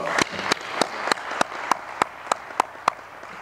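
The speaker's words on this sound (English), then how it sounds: "I would like to give them a round of applause" Applause from the audience at the ACC Clean Energy Challenge finals, heard as a wash of many hands with about ten louder, evenly spaced claps standing out from it at a steady rhythm.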